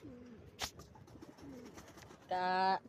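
Pigeons coo softly in bursts, a low bubbling call near the start and again mid-clip, with a brief rustle and a loud harmonic buzz near the end.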